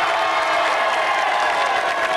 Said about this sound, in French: Bravo, applaudissements pour les Blancs.